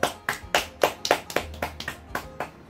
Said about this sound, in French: Vraiment, je trouve qu'on peut encore s'applaudir